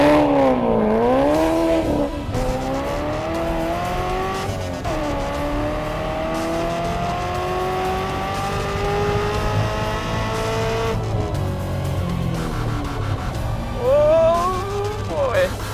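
An '85 C4 Corvette kart and a 2014 Lingenfelter-tuned C7 Corvette race, with engines loud and steady, rising and falling in pitch as they rev and shift, and occasional tire noise, while people talk over the roar.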